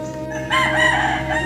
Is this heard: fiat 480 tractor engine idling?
no